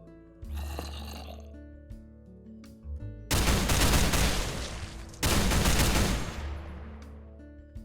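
A customizable Techguns turret in a video game opens fire on zombies, two long loud bursts of rapid gunfire, each a few seconds long, broken by a short pause and preceded by quieter mechanical game sounds.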